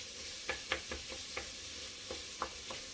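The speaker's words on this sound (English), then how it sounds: "Okay, so I got my onions here going a little bit with my garlic." Onions and garlic cooking in a pan, a soft steady sizzle with a few light clicks of stirring scattered across the moment, quiet and close.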